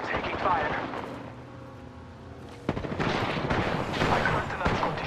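Rapid gunfire crackles in the battle royale shooter Apex Legends, loud close bursts of automatic shots and sharp reports that break in after a quieter stretch with a voice speaking, then continue densely to the end.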